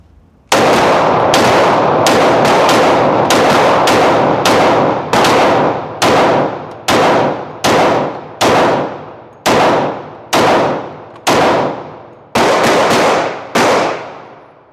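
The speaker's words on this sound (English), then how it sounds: "This is gonna be our last rounds out of the Glock 40." Rapid, loud gunfire from a Glock 40 Gen4 pistol, a quick string of close sharp cracks followed by evenly spaced single shots, each ending in a short ringing decay, with no talking.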